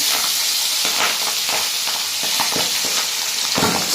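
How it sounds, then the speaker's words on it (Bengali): Fish fries in hot mustard oil in a wok, giving a loud, dense, continuous sizzle and spitting hiss up close, with no one talking. "সর্ষের তেল কড়াইতে গরম তেলে লবণ দিচ্ছি তাও মাছ ফুটছে"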